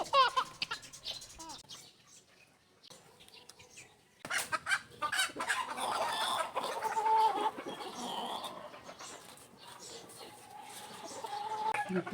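A brood hen on a farm gives intermittent nearby clucks in short bursts, with a person talking over parts of it.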